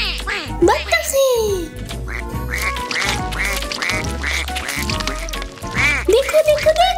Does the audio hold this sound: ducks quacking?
yes